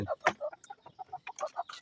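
Chickens cluck close by in a quick, choppy run of short calls, one after another with brief gaps, fairly loud.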